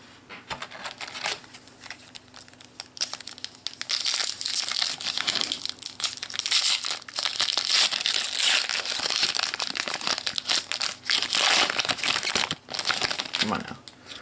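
Crinkly foil wrapper of a Dragon Ball GT Super 17 card booster pack being torn open and crumpled, loud close rustling and crackling that runs steadily through most of the stretch, with a person talking now and then.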